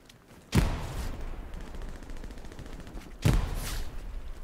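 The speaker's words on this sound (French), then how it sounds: "Ça, c'est des grenades." Two grenade explosions in the World War II shooter Hell Let Loose, sharp heavy blasts a few seconds apart, each trailing off over a low rumble of distant battle.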